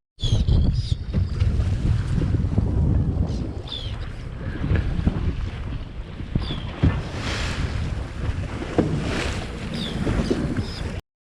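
A tour boat motors across open water off Akaroa, New Zealand, engine rumble and splashing hull under gusting wind rumble, loud and continuous throughout.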